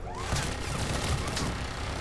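A steady, dense rattle of turret gunfire in the Mass Effect 3 video game, continuous and loud over a busy combat mix, with no talk.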